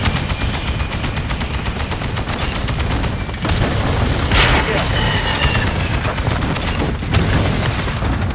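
Missile blasts and rapid gunfire fill a Call of Duty: Modern Warfare II match in a loud, continuous barrage, with a heavier explosion rumble about midway through and no clear speech.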